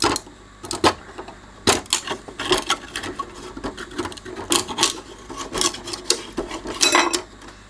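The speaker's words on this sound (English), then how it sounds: "I'm going to get this cover off here, which I expect is glued down" Glued cover being pried off an Amstrad boombox, close irregular scraping, creaking and sharp clicking bursts as plastic is worked loose, scattered over several seconds.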